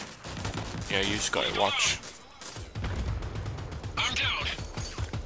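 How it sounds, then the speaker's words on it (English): Gunfire from enemies behind in an online shooter game, with bursts of rapid shots and mechanical clatter under two people talking over each other. "Oh, they're shooting from behind."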